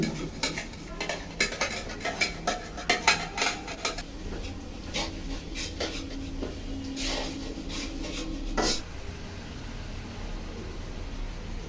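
Finely chopped potatoes go into a cooking pan with a burst of rapid scraping and metallic clatter from stirring, then a steady soft sizzle with a few more scrapes, close by and with no talk.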